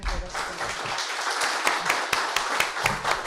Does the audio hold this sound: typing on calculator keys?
no